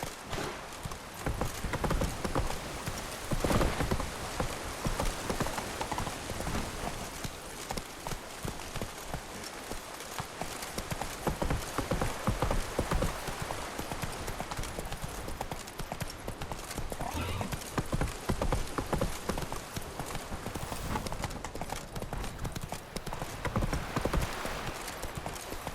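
A horse gallops across dirt in the video game The Witcher 3: Blood and Wine, its hooves clip-clopping in a steady, loud, continuous rhythm with a brief whinny, and a voice speaks over it.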